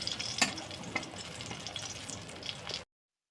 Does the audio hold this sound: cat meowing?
no